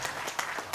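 Brief, fairly faint audience applause for an admiral at an expert panel discussion, a steady patter of many claps lasting under a second.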